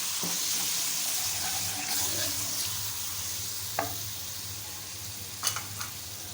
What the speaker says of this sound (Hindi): थोड़ा सा भूनें।